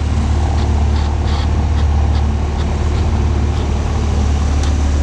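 Out in the Hebrides between Lochmaddy and Stornoway, a faster motorboat comes up behind a sailing boat, its engine a loud, unbroken drone that holds steady through the whole stretch with no voices.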